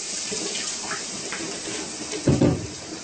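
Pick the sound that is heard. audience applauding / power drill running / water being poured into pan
water being poured into pan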